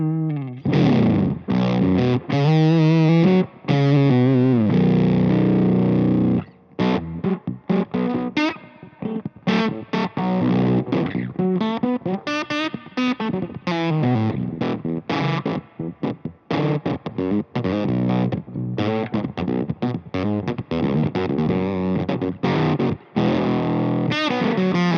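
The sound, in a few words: electric guitar through Octaland octave pedal, clean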